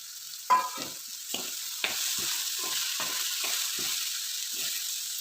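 Vegetables fry in oil in a pan for a dried-shrimp and raw-mango pickle, with a constant hissing sizzle broken by repeated scraping strokes of a stirring spoon at a steady, unhurried rhythm.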